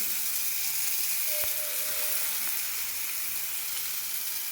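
Tomatoes sizzling in a hot pan in a Kannada home kitchen, a steady bright frying hiss throughout with a faint tap or two, close and continuous.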